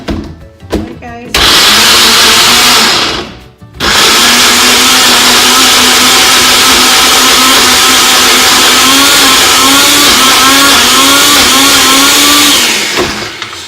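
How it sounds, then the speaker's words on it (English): A kitchen blender whirs loudly and close for several seconds while Lao red curry noodle ingredients are blended, with its pitch rising as it spins up. The motor stops briefly and restarts, and there are short handling noises before it starts. "Let's get the blender going."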